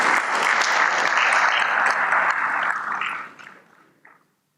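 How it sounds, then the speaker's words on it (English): Audience applause for award presenters at a business CEO summit in Ghana: steady, loud clapping from a large hall that tapers off over the last second into a few scattered claps and then silence. "A round of applause for them as they come."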